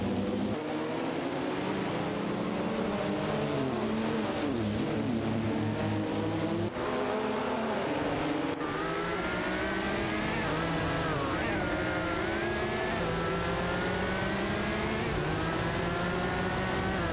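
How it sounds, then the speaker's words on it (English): Racing cars in an AI racing video game roar past with high engine whines that rise and fall, several at once, loud and continuous, no voices. "Racing car. Dashing away."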